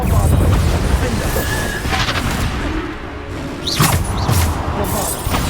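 Repeated Bombarda blasting-spell explosions in the Hogwarts Legacy video game, loud booming bursts with crashing debris over dense combat noise, two sharper blasts standing out near the end.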